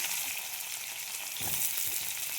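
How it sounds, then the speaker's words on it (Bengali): Raw plantain, potato and sweet potato fry in hot oil, giving a steady close sizzle with a few stirring clatters partway through. "এবার ওই তেলের মধ্যে আমি কাঁচা কলা, আলু আর মিষ্টি আলু"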